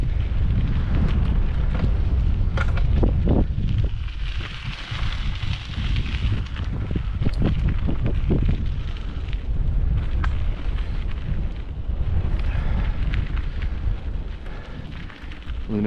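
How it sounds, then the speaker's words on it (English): Strong winter wind blows along a railway grade beside frozen ditches under light snow, roaring and buffeting the microphone in rough gusts with no break. "and it's super windy."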